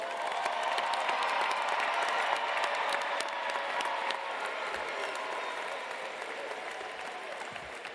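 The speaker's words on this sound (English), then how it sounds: "Let's give the graduates of the class of 2025 and 2026 another round of applause." Graduates at a university commencement ceremony are met with a long, full round of applause from the crowd, clapping mixed with light cheering, strongest early and slowly easing off while staying steady throughout.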